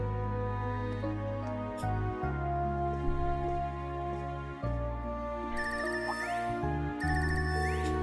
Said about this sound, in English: This ringtone. I haven't heard this before.